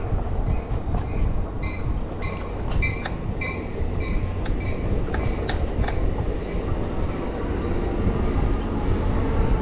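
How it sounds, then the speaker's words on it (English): A train rumbles past steadily, with rhythmic clacking of wheels over rail joints and occasional metallic squeals, loud and continuous throughout. "We certainly got to see enough trains."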